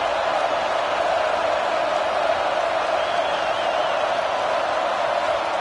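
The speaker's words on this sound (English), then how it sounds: "this crowd is fired up. Listen to this noise here." A big stadium crowd roars steadily at a football game, a dense, loud, unbroken wall of cheering noise with no pauses.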